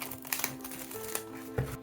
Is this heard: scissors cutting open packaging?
yes